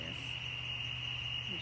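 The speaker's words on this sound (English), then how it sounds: "I'm competing with the crickets" Crickets chirp outdoors at night as a steady, shrill high-pitched trill that holds without a pause, with a low hum underneath.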